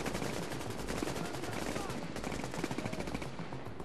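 Sustained automatic gunfire in The Division's Dark Zone, rapid continuous bursts of shots from nearby weapons filling the whole moment, loud and relentless with a faint voice beneath.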